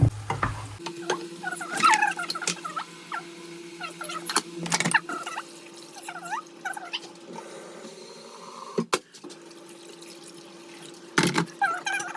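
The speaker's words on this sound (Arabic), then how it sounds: "انا كيعجبني الدجاج نخليه يتشحر مزيان" Chicken sears in a pan with garlic and coriander, a quiet steady sizzle under clattering stirring and scraping, with a few sharp knocks of a utensil against the pan.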